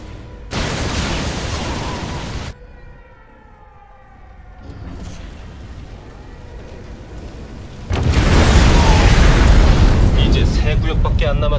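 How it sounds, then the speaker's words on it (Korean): In a StarCraft II co-op mission, a truck explodes. Two loud, booming bursts are separated by a quieter stretch with an in-game voice, and the second blast rolls on to the end. "대피하십시오. 곧 폭발합니다."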